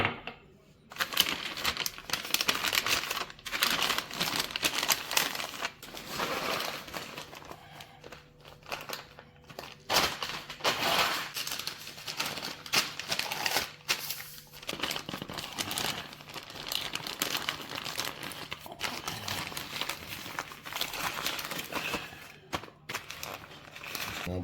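Butcher paper crinkling and rustling while smoked brisket is wrapped after cooking in an offset smoker, a steady close run of crisp crackles and crumples lasting throughout with no talk.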